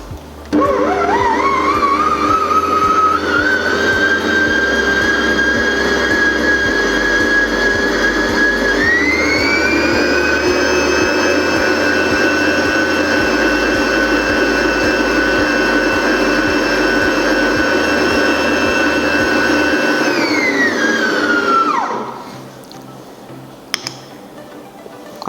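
Electric stand mixer whipping French buttercream, a loud steady motor whine with a pitch step up partway through, running alone for about twenty seconds before winding down.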